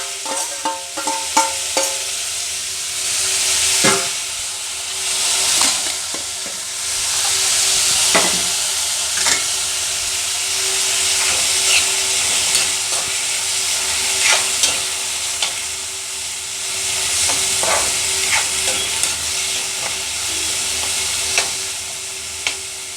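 Tomato and onion sizzle steadily in hot oil for a raw prawn curry, with close scraping and clinking from stirring throughout and no talking.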